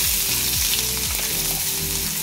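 Chopped onion hits a pan of hot oil with fried green chillies, giving a loud, dense, continuous sizzle and crackle heard close up without any talk.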